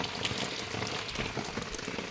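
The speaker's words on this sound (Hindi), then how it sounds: "मुश्किल है कि आज बारिश बंद होगी" Heavy rain falling, a dense, continuous hiss of close, fairly loud drops that stays steady throughout with no voices.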